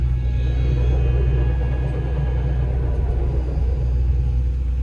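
A slew machine with a failed slew motor and overheated engine driving around a high track, giving a loud, steady low rumble and engine drone throughout with no talk.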